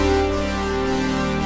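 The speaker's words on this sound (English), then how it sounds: "So this is the sound of a sawtooth," A steady, buzzy synthesizer sawtooth tone held at one pitch, bright and sharp with rich harmonics, sounding alone.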